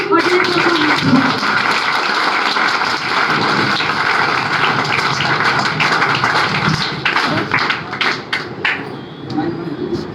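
An audience at a business seminar breaks into loud, dense applause that fills the room for several seconds, then thins into scattered individual claps toward the end.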